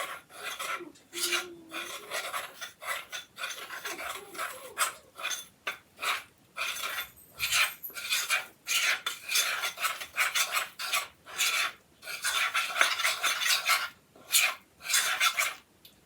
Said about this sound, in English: in this bowl, I put 4 teaspoons of milk, and we're going to give this a stir